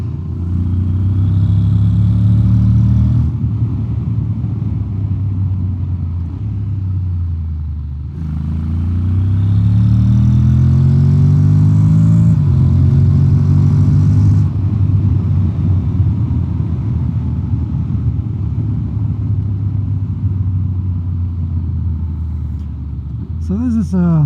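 A Honda X-ADV 750 motorcycle engine in sport mode accelerates, revving up in rising sweeps. It drops off briefly, then climbs again loud and close, in two or three surges.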